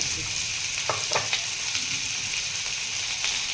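Finely chopped garlic and green chilli sautéing in hot oil with chilli and turmeric powder, a constant close sizzle broken by a few sharp spatula scrapes against the pan, no talking.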